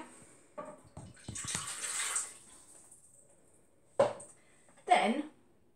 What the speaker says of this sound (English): I've got some water and a bit of oil. Okay, let's pop that in.